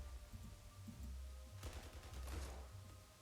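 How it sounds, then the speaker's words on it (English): Artillery firing on troops in the Panzer Corps II game, a quick burst of thudding blasts with sharp crackles in the middle, over a low rumbling background, faint and brief. "Going to hit them with my artillery"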